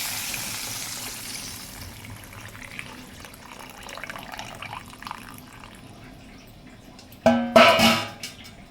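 Tamarind extract pours into a cooking pot off the stove, a soft trickling liquid sound that swells into a louder splashing pour near the end, heard close with no talking.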